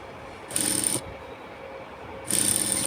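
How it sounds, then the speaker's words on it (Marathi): A sewing machine stitches a sleeve in two short, whirring bursts, each about half a second long, separated by a quiet pause. "तर चला आपण स्लीव्ज आता स्टिच करायला घेऊयात."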